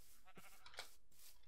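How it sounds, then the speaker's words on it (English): Sheep in Minecraft bleat close by, two or three short wavering calls, faint and quiet, with no talk over them. "we do have a bunch of sheep. Like really close to us"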